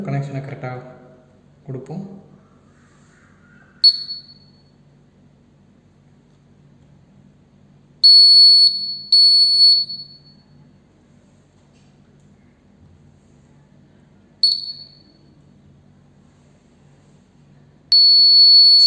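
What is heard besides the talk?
Arduino buzzer sounding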